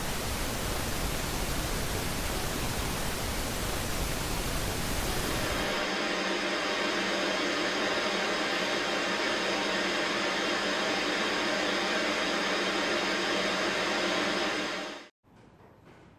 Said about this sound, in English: Let's take the example of white noise. It sounds like the static of a TV or radio.